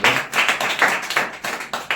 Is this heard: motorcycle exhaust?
no